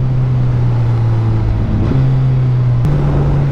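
A Suzuki Hayabusa motorcycle engine hums loud and steady while riding, its low drone holding pitch and then stepping up slightly twice, with no voices over it.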